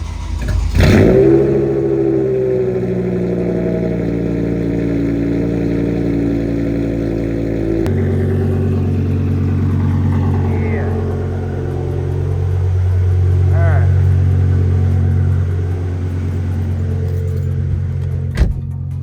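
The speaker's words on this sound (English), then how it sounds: "The exhaust still sounds as good as ever" A BMW E60 M5 V10 engine cold-starts close by with an upgraded exhaust, flaring briefly before settling into a deep, steady idle that rumbles on with a slight rise in revs midway.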